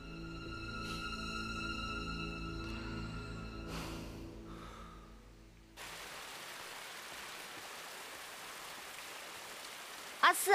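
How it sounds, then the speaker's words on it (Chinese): Steady rain starts after a stretch of tonal music and then hisses evenly as a dense, continuous wash of falling water in a TV drama scene. "下雨了"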